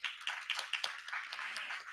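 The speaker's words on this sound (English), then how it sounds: "So please give them a round of applause one more time." Audience applause at a digital rights panel discussion, a short run of quick, fairly faint claps with a few sharper claps standing out, heard alone with no talk.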